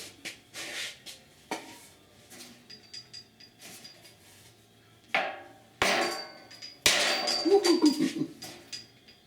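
A hammer driving a wooden block against a warped metal panel, giving a series of irregular close knocks and clanks with short pauses, some hits sharp and ringing.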